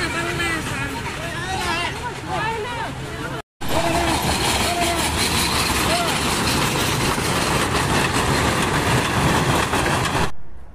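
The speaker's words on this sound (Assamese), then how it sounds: "সেইখন ট্ৰেইনখন চলিছে।" A train rumbles along steadily with a continuous mechanical drone, heard under a crowd of chattering schoolchildren and nearby talking, with a brief dropout early on.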